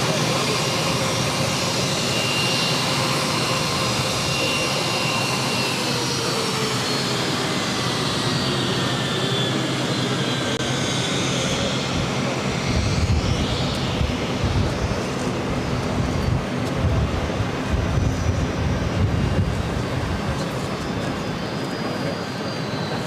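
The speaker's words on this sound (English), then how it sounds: "Next takeoff on 22 left, heading to SFO, San Francisco United Airlines flight 1413." A United Airlines Boeing 737 MAX 9 takes off from runway 22 left, bound for San Francisco, as a steady, loud jet-engine roar that swells and rumbles deeper over about twenty seconds, with wind noise throughout.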